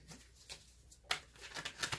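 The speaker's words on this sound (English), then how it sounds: "If I can just get these cards to shuffle right today" A deck of tarot cards is shuffled nearby in a few short, quiet riffling and slapping bursts, with soft rustles between them and no talking.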